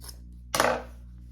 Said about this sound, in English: you want to trim your corners so they're not bulky here